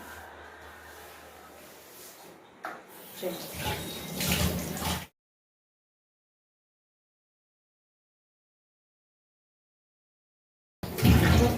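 Water pours and splashes over hands being washed, a steady close rush for about five seconds that stops abruptly into silence, then briefly returns at the very end.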